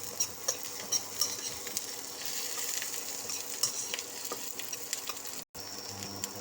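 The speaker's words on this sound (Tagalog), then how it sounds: "Lutuin na natin mabuti yung sibuyas at bawang." Onion and garlic sauté in a pan for chicken gizzard adobo, giving a steady close sizzle with a few sharp clinks of a utensil stirring against the pan and a brief pause near the end.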